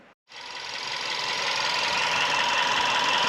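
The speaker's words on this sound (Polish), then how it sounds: "Uruchomiliśmy silnik" A car engine with a jerking, uneven-running fault and loss of power idles roughly just after start-up, a steady close mechanical hum and clatter that holds after a brief silent gap.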